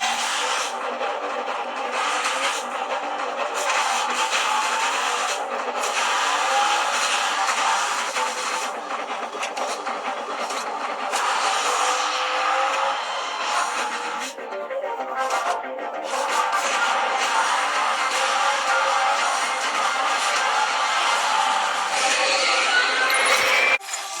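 Racing cars in the video game Asphalt 9 played on a Teclast T40 Pro tablet, a continuous roar of engines and tire scrapes with game effects, steady and fairly loud throughout, without speech.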